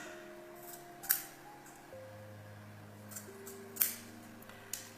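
Scissors snipping through lace during a glueless wig install, heard as two or three short, crisp cuts spaced a few seconds apart over a low steady hum, fairly quiet and with no talking.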